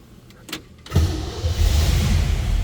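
A 1957 Chevrolet Bel Air hardtop with a small-block 350 V8 cranks briefly and catches, settling into a loud, steady rumbling idle heard up close.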